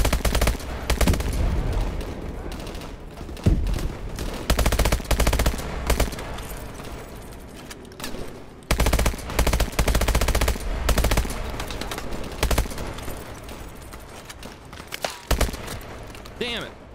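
Gunfire in Call of Duty: Advanced Warfare comes in loud automatic bursts and single shots, close and sharp, separated by short lulls, with in-game sounds and some voices mixed in.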